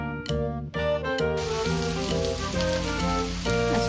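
Carrot, corn and chicken pieces sizzle loudly in a hot pan for a lumpia filling, a dense crackling hiss with music playing over it.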